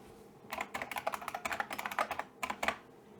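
Quick typing on a computer keyboard, a close burst of light key clicks in an uneven rhythm, then a short pause and a couple of final taps.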